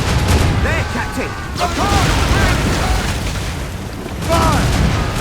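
Ship cannons in Assassin's Creed Rogue boom in heavy, rumbling bursts during a naval battle, with crew voices shouting over the roar of fire and sea.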